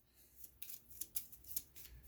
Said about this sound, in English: Alright, let's go ahead and shuffle.